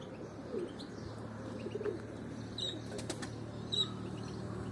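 A pigeon's wings flap in flight against faint outdoor background, with a few soft chirps and light cooing scattered throughout, fairly distant.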